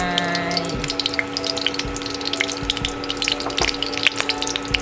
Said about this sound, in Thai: เดี๋ยวจะเทน้ำมันใส่ลงไป